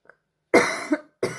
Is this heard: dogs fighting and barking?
no